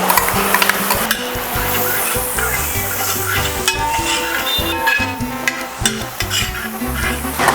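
Ginger, green chili and garlic fry in a pan for a Kerala-style beef dish, giving a steady, close sizzle with frequent stirring scrapes and clinks throughout and no voices.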